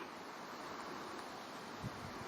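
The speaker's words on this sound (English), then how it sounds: "Nice windy day." Steady wind rushes and buffets against the microphone throughout, a constant breathy roar with no talking.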